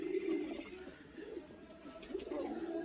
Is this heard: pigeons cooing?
yes